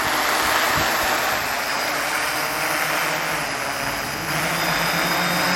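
Small motors of a Raspberry Pi-controlled drone hum at idle in a steady, broadband whir, an even high-pitched drone that holds constant throughout at close range.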